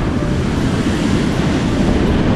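High, rough ocean surf on a beach on a stormy morning, a loud continuous wash of breaking waves with wind buffeting the microphone, no voices.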